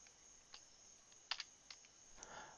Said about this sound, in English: It's hard because I'm typing this from my notes.